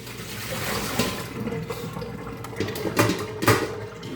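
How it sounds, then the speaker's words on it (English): Cooled homemade mascarpone mixture is poured into a lined cheesecloth strainer, giving a close, wet, splashing pour with a few louder sloshes and light knocks, no talking. "we're going to pour it in this strained lime cheesecloth"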